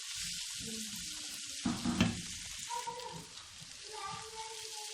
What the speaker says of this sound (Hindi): अब इसको हम अच्छी तरह फ्राई कर लेंगे।